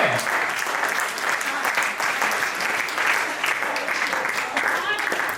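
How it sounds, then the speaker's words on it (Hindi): Applause from the audience at a Hindi poetry recital, a kavi sammelan, rolls on as a continuous, even wash of many clapping hands, fairly close and sustained throughout with faint voices mixed in. "तालियां कमजोर है"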